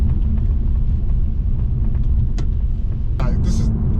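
A Mercedes E63s engine and exhaust rumbles steadily from inside the car while driving, a constant low drone with a brief higher sound near the end, under a person talking.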